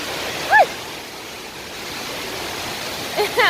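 Palovit waterfall at Çamlıhemşin, Rize, flowing strongly as a steady close rush of water, with a couple of short vocal sounds breaking through near the start and end.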